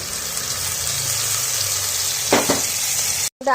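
Spice paste of ginger, garlic, tomato and green chilli fries in a pan for a cauliflower chicken curry, giving a steady close sizzle. A louder spitting burst comes as the paste goes in, then a brief gap near the end.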